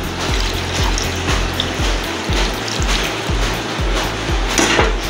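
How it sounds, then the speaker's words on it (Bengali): Water is poured into a pan of cooking whole chicken, making a steady wet trickling and bubbling. Soft low knocks recur at a regular rhythm underneath. "এটা এখন একটু আমি পানি দিয়ে দিব।"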